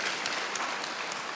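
A church congregation claps for God during a worship service, giving a steady, dense burst of applause with no voice over it.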